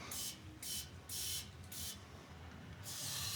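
Several short bursts of lubricant spray hiss from an aerosol can on a Jeep, a few quick sprays followed by a longer one, close and fairly quiet.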